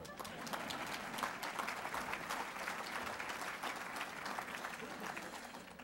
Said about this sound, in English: I thought somebody might applaud for that.